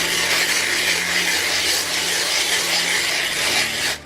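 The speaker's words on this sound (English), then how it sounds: "You need to do a minimum of about 10 minutes of grinding." Glass being ground by hand with wet grit to give it a matte surface, a steady loud gritty scraping that runs continuously without pause.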